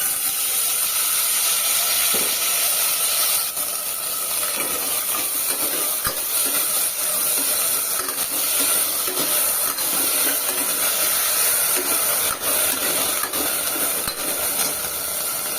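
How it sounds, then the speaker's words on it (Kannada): Continuous loud hissing and sizzling of soaked brown chickpeas and green peas frying in hot oil in a pressure cooker over a low flame, steady throughout, with no one speaking. "ಕಂಪ್ಲೀಟ್ ಲೋ ಫ್ಲೇಮಲ್ಲೇ ಇಟ್ಕೊಂಡಿದ್ದೀನಿ ಇದೊಂದು ಐದು ನಿಮಿಷ ಫ್ರೈ ಆಗಲಿ"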